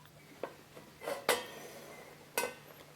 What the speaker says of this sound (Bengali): এবার আমি একটু ঢাকা দিয়ে ঢেকে দেব 5 মিনিট মতন।